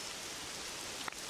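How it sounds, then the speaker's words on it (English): Rain pours down in the video game Pokemon Pokopia, a constant soft hiss with a single faint tick near the end and no talking. "It's pissing down rain!"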